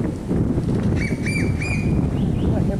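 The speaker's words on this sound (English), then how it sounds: "I hear birds." Birds calling near the sea at Mahogany Bay, Roatan, Honduras: a few clear chirping calls cut through a steady bed of wind and crowd noise, with no one speaking over them.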